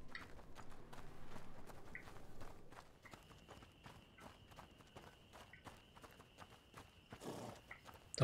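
Horse hooves clip-clop in steady walking footsteps in the video game A Plague Tale: Innocence, fairly close and moderate in level, with a faint sustained tone in the background through most of it.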